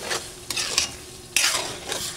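Sisig tofu with ground pork and vegetables being stirred in a frying pan, with bursts of scraping and sizzling at an uneven rhythm, close and fairly loud, no talking.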